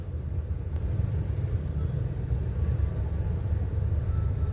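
Night road traffic at Ekkaduthangal, with a steady, continuous low rumble of passing vehicles that holds at the same level throughout.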